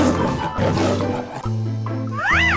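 A lion roars in a 3D animal video game, a deep, loud roar over steady game music, with a rising-and-falling electronic sweep at the end.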